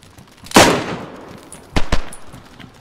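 Gunfire in PUBG: one loud close shot with a trailing echo, followed a second later by a quick pair of sharper shots.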